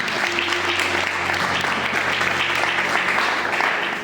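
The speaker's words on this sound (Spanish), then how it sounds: "¿Por qué no damos otra ofrenda de aplausos?" A church congregation applauding during a Spanish-language service, dense steady clapping that fills the room evenly with a low hum running underneath.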